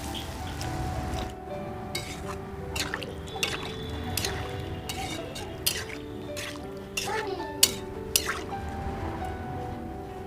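Water, about one and a half cups, poured into a cooking pot in a home kitchen while making a Bengali fish curry, with soft dripping and trickling sounds, a few light clinks, and background kitchen noise throughout.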